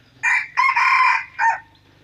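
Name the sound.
rooster crowing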